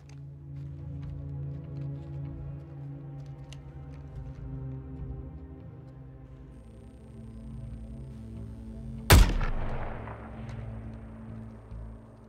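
One sharp, loud gunshot cracks out near the end of a Suicide Squad: Kill the Justice League cutscene, rising over a low humming score and ringing briefly before fading.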